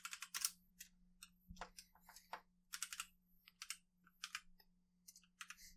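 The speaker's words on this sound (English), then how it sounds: "we'll find out once you're done typing" Rapid clicking of computer keyboard keys in bursts, close and fairly quiet, with brief pauses between flurries of typing and no voices.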